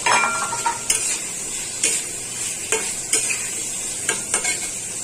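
Vegetables and long beans stirred into a pan of potatoes, sizzling steadily with a bright frying hiss punctuated by several sharp scraping stirs of a utensil against the pan, close and alone.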